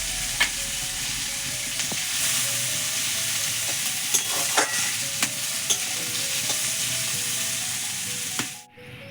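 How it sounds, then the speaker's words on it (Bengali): Onion fries in oil with chili and a bay leaf and is stirred often. A loud, continuous sizzle is broken by sharp spatula clicks against the pan at irregular intervals. No voices are heard, and the sound fades out at the very end. "এবার ভেজে নিচ্ছি, পেঁয়াজটা ভেজে নিয়ে এর মধ্যে একটু রসুনটা দিয়ে দিচ্ছি।"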